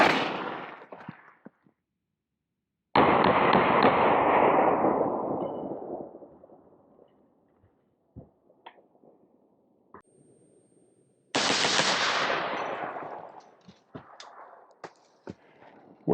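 Bursts of rifle fire from a 12.5-inch barrel Roscoe upper striking a Level III+ steel armor plate outdoors: a loud rapid volley, a quiet gap, then a second sharp burst with ringing decay and scattered impacts.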